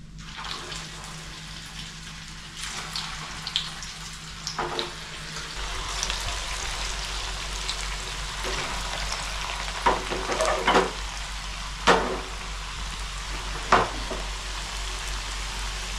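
Rava vadas made from semolina fry in hot oil, a steady bubbling hiss with scattered pops and splashes as pieces are slipped in and stirred, close and moderately loud with no talking.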